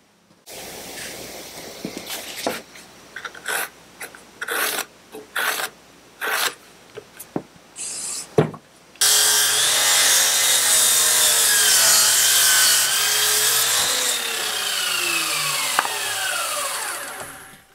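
A wooden rafter is cut by hand saw for a bridle joint at roughly 49.5 degrees. First come separate rasping strokes with short gaps, then a faster, continuous run of sawing that grows louder and ends abruptly.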